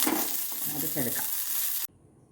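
Drumstick (moringa) leaves being stirred and wilted in a hot pan, a steady frying sizzle with scraping stirs, cutting off abruptly near the end.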